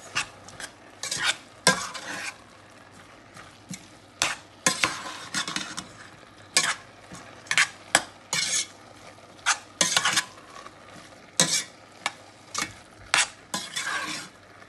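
Chicken and seasoning frying in a pot for meat pie filling, quiet sizzling under repeated scraping strokes of a utensil against the pot, a steady series of sharp clinks over about fifteen seconds, no talk.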